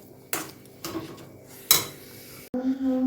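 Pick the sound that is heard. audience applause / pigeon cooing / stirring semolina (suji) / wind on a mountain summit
stirring semolina (suji)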